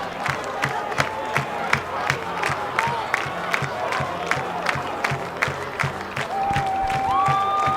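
A packed high-school football crowd roars in sustained cheering after a Gross Cougars touchdown run against Seward, with rhythmic claps and scattered whistles rising through the noise.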